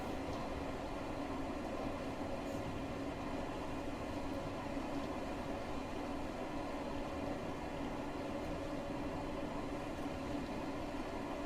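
The X-56 Rhino locomotive runs in Train Sim World 2 with a continuous droning engine and rail rumble. It holds at moderate loudness with no talk and no breaks.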